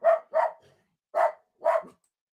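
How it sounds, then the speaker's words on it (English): A dog barks four times at moderate distance, as two quick barks, a pause, then two more. "Who's barking? Is that your dog?"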